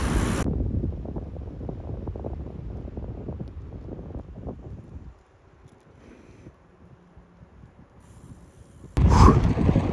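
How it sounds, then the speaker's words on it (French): Wind gusts outdoors near Dijon beside a motorway, buffeting and rumbling heavily at first, easing to a softer murmur midway, then a sudden loud blast near the end. "Le vent s'est levé depuis ce matin."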